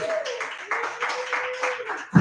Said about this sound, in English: Clap it for Kevin Doherty.